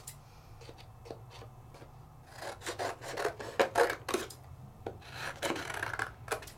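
Scissors trim around a stamped paper image with a rapid series of close, crisp snipping and rasping cuts that grow busier partway through, with no talk.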